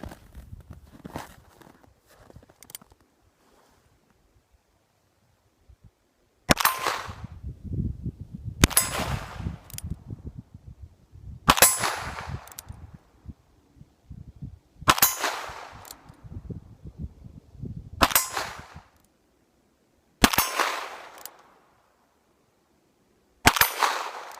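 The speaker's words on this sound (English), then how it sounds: "Let's take a few shots at the steel targets and see if we can hit them with this CCI Copper 22 ammo." Ruger Single Ten .22 revolver firing CCI Copper ammunition at steel targets outdoors, giving seven sharp shots spaced a few seconds apart, each followed by a bright metallic clang of the struck steel with a short ringing decay.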